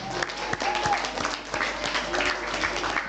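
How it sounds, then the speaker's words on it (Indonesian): Applause from an audience closing an Islamic talk forum in Indonesia, dense steady clapping through the whole span with a few sharper individual claps, moderately loud and fairly close. "Kita kasih tepuk tangan untuk Mbak Reva dan Mas Abdurrahman."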